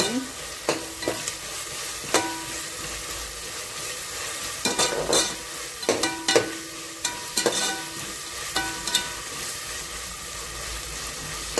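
Onions sautéing with ginger garlic paste in a pan for mushroom biryani, a steady close sizzle broken by repeated scraping stir strokes and clatters, with no talk.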